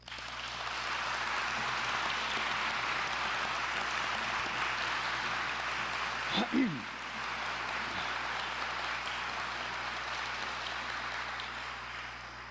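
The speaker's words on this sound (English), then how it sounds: "give a big round of applause to the most transformative city council" Sustained applause from a large crowd in San Antonio's City Council chambers, a dense even clatter of clapping that holds steady for several seconds with a brief thump partway through.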